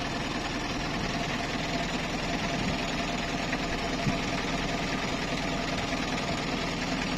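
A safari park vehicle engine runs steadily with a dense, constant rumble and hum from inside or close by, unchanging throughout with no talking.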